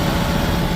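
A 1996 Chevy Camaro Z28 idling, heard close to the exhaust at the rear as a steady low rumble with no other sounds over it.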